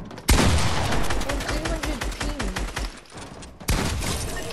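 Rapid gunshots crack in Fortnite, a dense burst of firing for about three seconds, then a pause and another loud shot, with a voice briefly heard beneath the gunfire.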